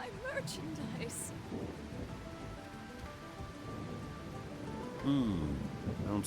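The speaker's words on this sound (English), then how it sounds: "Yeah! Rain!" Steady rain with low rumbles of thunder in the video game Trails Beyond the Horizon, a continuous wash of downpour with a brief brighter burst near the end, partly under game music and voices.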